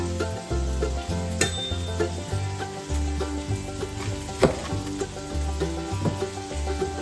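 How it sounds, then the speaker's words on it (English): Bacon sizzles in a pan with a close, continuous crackle and spatter, partly buried under steady rhythmic background music, with no talking. "let that bacon cook for a minute"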